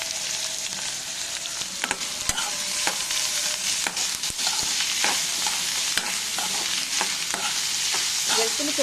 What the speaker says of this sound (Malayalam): ഇനി നമുക്കിതൊന്ന് ഒന്നത് ഇളക്കി കൊടുക്കാം.